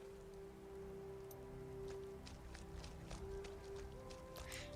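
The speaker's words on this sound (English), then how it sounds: "I love the sound of the rain on the roofs." Soft, steady patter of rain on roofs in Skyrim, with scattered sharper drips and taps over a low, constant hum.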